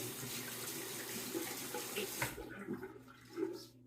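Water runs from a faucet to wet a Lord two-piece safety razor before a shave, a steady close splashing flow that tapers off and stops partway through, followed by faint handling sounds.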